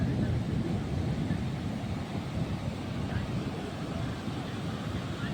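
Steady, broad roar of surf washing onto a beach in Mumbai, continuous and fairly loud, with wind buffeting the microphone throughout.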